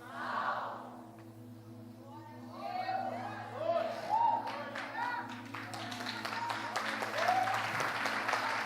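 A church congregation breaks into applause, scattered claps building into sustained clapping over several seconds, with a low musical drone underneath and voices murmuring.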